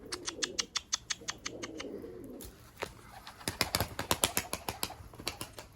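Pigeon cooing and calling close by in repeated short bursts, with a brief flutter of wings partway through and a run of quick sharp ticks and taps toward the end.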